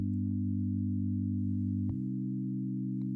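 Sustained chord played on a keyboard instrument, moving from a major third to a minor sixth: one held harmony shifts abruptly to a second held chord partway through, steady and clean with no voices.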